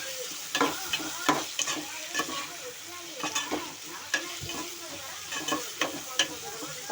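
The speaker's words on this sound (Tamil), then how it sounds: "தக்காளி போட்டதுக்கப்புறம் ஒரு கிண்டி விட்டுட்டு" Chopped tomatoes sizzle in a hot oil pan with green chillies while a spoon stirs and scrapes, giving a steady frying hiss broken by irregular clicks of the utensil, close and alone for egg gravy.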